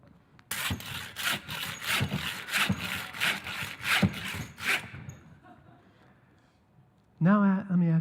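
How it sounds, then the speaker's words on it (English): Hand saw drawn back and forth through a concrete block, about a dozen steady rhythmic rasping strokes close up, then stopping before a voice begins speaking at the end. "Sawing on a concrete block? Making sparks?"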